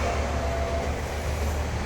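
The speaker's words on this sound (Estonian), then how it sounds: "Meil siin rongid sõidavad mööda" A nearby train rumbles past a home garage where an old Ford Taunus is being repaired, a steady low continuous roar with rail noise filling the whole stretch, no voices over it.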